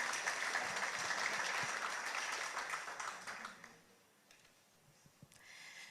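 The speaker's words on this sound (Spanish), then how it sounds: "Deseamos a Marta Isabel con un aplauso de gratitud por estar con nosotros." Audience applause of gratitude at a national New Evangelization congress session, a dense sustained clapping from a hall crowd that carries strongly for nearly four seconds, then thins out to scattered faint claps.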